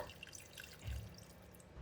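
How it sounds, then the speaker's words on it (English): Faint water trickling and splashing into a pan of chicken and potatoes in gravy, soft and steady with a brief fuller gush near the middle. "Add 250 ml of water."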